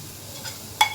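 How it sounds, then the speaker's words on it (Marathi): Masala spices fry in a pan for a spicy mutton curry, giving a soft continuous sizzle broken near the end by a quick scrape and clink of a stirring utensil, close up and without talk. "मसाला किती छान परतला आहे मी आणि कलरही छान आला आहे त्याला"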